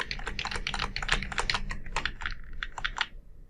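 A computer keyboard is tapped quickly while navigating an Excel spreadsheet with the arrow keys, with a dense run of crisp close clicks that slows to scattered taps toward the end, and no voices.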